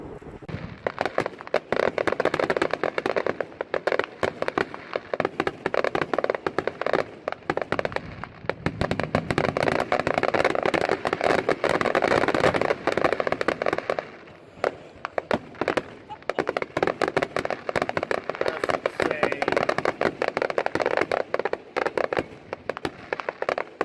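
Dense, continuous crackling and popping of fireworks going off, loud and sustained, with brief lulls and a constant barrage of small bursts.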